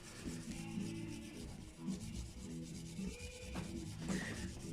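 Steel wool is rubbed over the finish of a parts Telecaster guitar body, faint close scrubbing strokes in a steady rhythm with no talking.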